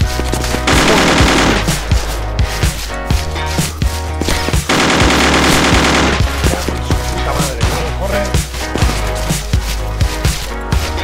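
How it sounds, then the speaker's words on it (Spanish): Heavy, continuous gunfire rattles through a Vietnam tactical simulation, with dense machine-gun bursts and overlapping shots, loud and sustained throughout. "Cuidado que nos disparan."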